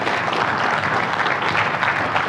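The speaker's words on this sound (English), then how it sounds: "Stand up, round of applause." Steady, dense applause from a crowd at a business gathering, holding at an even, loud level throughout with no pauses and no clear talk above it.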